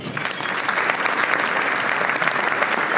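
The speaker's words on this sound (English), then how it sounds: "we should also clap one more time" Steady, dense applause from a large crowd, loud and continuous throughout with no voices breaking through.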